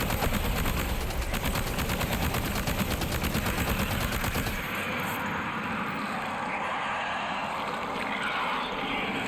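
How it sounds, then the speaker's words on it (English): Sustained rapid automatic machine gun fire in the video game Death Stranding 2, a dense rattling burst for the first half, then giving way to a steady rumbling background. "Machine gun."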